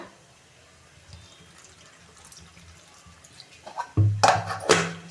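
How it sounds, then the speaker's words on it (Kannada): Water is poured in over ground spices, coconut and chillies for jamun fruit chutney before grinding, quiet trickles and drips building to a couple of louder splashing pours near the end. "ಇದಿಷ್ಟು ಸ್ವಲ್ಪ ನೀರು ಹಾಕ್ಕೊಂಡು ರುಬ್ಕೊಳ್ಳೋಣ"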